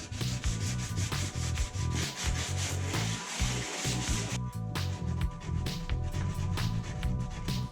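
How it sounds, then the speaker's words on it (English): Rough scratched inside of a used plastic pallet box being sanded, a loud close continuous rasping with rhythmic back-and-forth strokes that briefly pause midway. "I sand the box from the inside."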